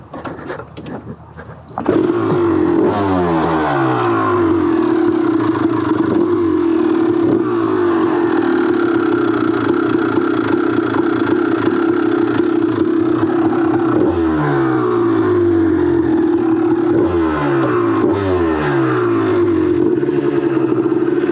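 A Honda CR250 two-stroke dirt bike, already warmed up, idles steadily and close by after a brief start, with a raspy burbling tone and occasional small blips of throttle, no talking.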